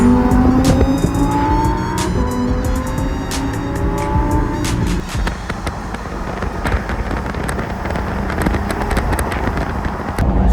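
A Lamborghini's engine drones close by as the car drives, with the tone shifting midway into rougher, broadband road and engine noise, punctuated by sharp clicks and ticks and no talking.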